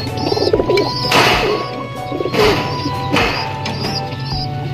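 Pigeons coo repeatedly in a pigeon loft, low throaty calls layered close by, with occasional flutters, thumps and other bird sounds, no talk over them.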